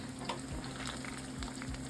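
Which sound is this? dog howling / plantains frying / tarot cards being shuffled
plantains frying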